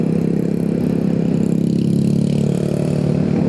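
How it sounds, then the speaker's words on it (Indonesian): Noisy motorcycle engine droning steadily in traffic, loud and close with a low, pulsing mid-range hum and slight revving throughout. "Motor berisik doang nih."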